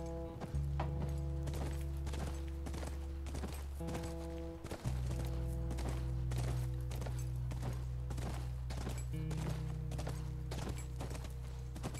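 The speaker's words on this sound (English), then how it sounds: "That's our horse." A horse's hooves clip-clop in a steady walking rhythm in The Last of Us, close and clear over a sustained low musical drone, with no talking.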